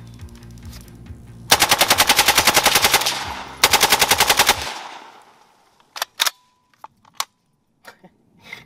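An AK rifle firing 7.62x39 rounds in two loud, rapid bursts, each about 1.5 seconds long, followed by several scattered single shots that fade out.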